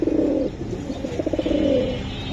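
Khoyra-necked pigeons give close, clear cooing in a rhythmic series of soft pulsing notes, with no talk over them.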